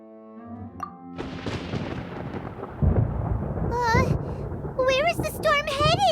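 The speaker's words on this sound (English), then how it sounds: "Paimon hears thunder!" Thunder rumbles in the Genshin Impact video game world, a low broad roll building through the clip with rain-like hiss, while a high-pitched character voice speaks over the later part.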